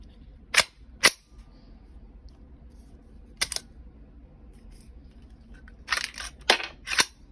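A buffer-less BCA AR-9 rifle running Colt magazines fires several sharp, sudden reports: two single shots early, one more midway, then a quick cluster of shots near the end, with quiet gaps between them.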